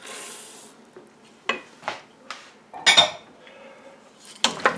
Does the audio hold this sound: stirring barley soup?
yes